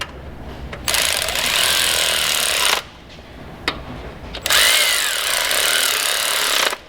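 A power tool runs in two loud sustained bursts of a few seconds each, tightening crank hub retention bolts on a BMW engine. A short click falls between the bursts and quiet pauses come before and after.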